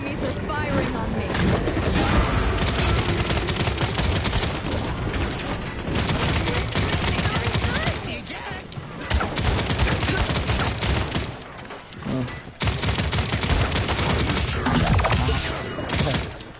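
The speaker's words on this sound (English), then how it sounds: "Enemies are firing on me." Enemies firing guns at the player in the Paladins shooter, a dense, nearly continuous clatter of gunfire and impacts running throughout, with someone talking over much of it.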